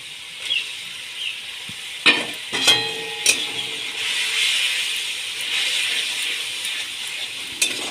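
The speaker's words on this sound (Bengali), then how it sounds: "এবার ওর মধ্যে আমি কুচনো টমেটোগুলো দিয়ে দেব।" Chopped tomatoes sizzle and fry in a pan for a paneer curry, with a steady hiss broken by several sharp scrapes and clanks of stirring, close and alone without talk.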